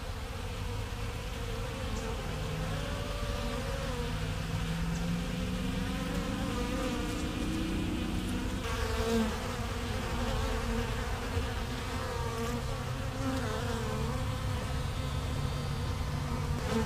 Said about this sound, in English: bees taking water back to their colonies